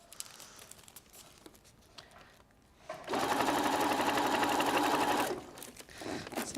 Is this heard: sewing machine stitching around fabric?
yes